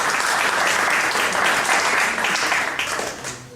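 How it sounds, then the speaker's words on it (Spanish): Loud, dense applause from the audience at a book presentation, steady for most of the stretch and then tapering off toward the end. "Le damos un aplauso"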